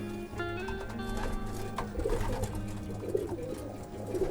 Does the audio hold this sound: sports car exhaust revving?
no